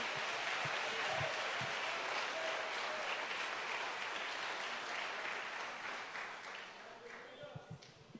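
A church congregation in Betim worshipping with steady, sustained clapping and crowd noise that gradually fades toward the end, with voices mixed in.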